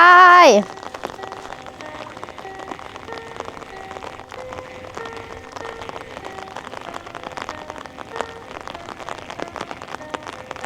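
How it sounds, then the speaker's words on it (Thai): Rain patters steadily on surfaces outdoors during fishing, a dense, continuous crackle of drops heard nearby after a brief burst of voice at the start. "ฝนมาอีกแล้วเยอะ"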